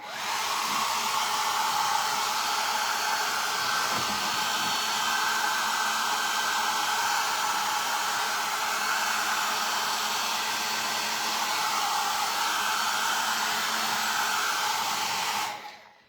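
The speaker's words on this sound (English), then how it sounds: "let me blow dry this right quick before we do the bow" Hair dryer blow-drying a painted door hanger, a loud, steady whooshing blast running continuously before cutting off at the end.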